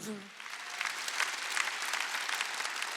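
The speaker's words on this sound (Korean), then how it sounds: "박수야." A church congregation at a Sunday worship service claps in dense, steady applause from start to finish, fairly close and loud, with voices mingling in the crowd.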